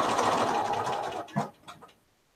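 A sewing machine runs steadily while tacking down a narrow eighth-inch seam on a colorful quilt, a continuous mechanical whir that stops midway and leaves a few faint clicks and handling noises.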